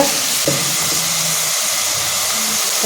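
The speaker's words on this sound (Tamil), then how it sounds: "நல்லா தக்காளி அந்த வதக்கும் போது நல்லா கரைஞ்சி வரணும்" Constant loud sizzling and hissing of tomatoes sautéing in a pan for tomato biryani, with occasional faint stirring sounds underneath.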